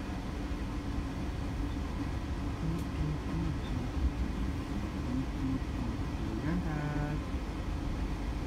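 Progo economy train rolling after departing Pasar Senen station at night, a steady low rumble and wheel hum heard from inside the carriage, with faint voices in the background.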